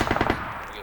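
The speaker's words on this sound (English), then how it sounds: "This guy trying to shoot immediately takes heavy suppressive fire" Automatic gunfire in the military shooter Arma 3 during a large PvP battle: a quick burst of several sharp, closely spaced shots up front, then a fading, reverberant tail.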